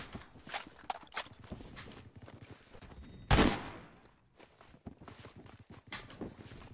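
A gun fires in the Phantom Forces first-person shooter game, a weapon fitted with a barrel attachment, with one loud close shot amid a steady run of quieter footsteps and clicking game sounds.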